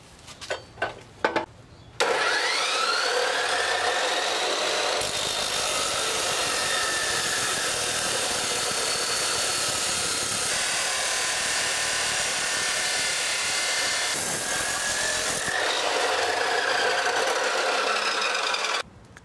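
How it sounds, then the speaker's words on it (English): A saw or cutting tool slicing the end off a plastic pipe: a few sharp knocks at the start, then a loud, continuous high-pitched whining rasp for about thirteen seconds that stops abruptly, followed by a brief trailing buzz. "the last thing I'm going to do is cut the end of this pipe off"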